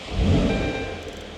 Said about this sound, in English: I'll turn the car on and fire it into life for you